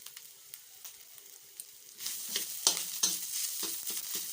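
Curry paste stir-fried in a wok for a bitter gourd curry, quiet at first with light taps, then a louder sizzle swells with repeated spatula scrapes, near and without speech.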